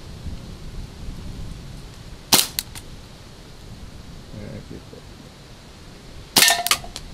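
Umarex Legend Series P08 air pistol fired at cans outdoors, two sharp cracks about four seconds apart, each followed by brief metallic pings or rattles against steady background noise.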